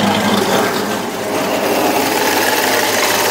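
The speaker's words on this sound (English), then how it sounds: "that's the idle exhaust note." A 390 stroker V8 in a 1995 Dodge Dakota club cab idles with a steady, loud, busy exhaust note that is close up and continuous, with no one talking.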